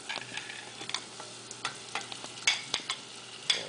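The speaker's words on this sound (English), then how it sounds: "And we're just going to give this a couple stirs as it cooks through." Diced tomatoes sizzle and fry in a pan while being stirred, with several scraping stir strokes and clicks against a steady sizzle, close and moderately loud, no voices.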